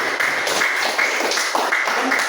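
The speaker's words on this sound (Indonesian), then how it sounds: "Kasih aplaus dulu." Classroom applause during a teaching practice session, a dense steady patter of many hands clapping at close range for a couple of seconds.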